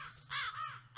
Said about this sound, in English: Well, there's birds now.